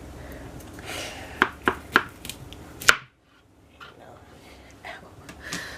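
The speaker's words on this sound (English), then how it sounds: "So first you want to cut off the end of it because we don't need that part." A knife cuts the end off an aloe vera leaf on a cutting board, giving a few sharp taps followed by one firmer chop, then a near-silent pause and faint rustling.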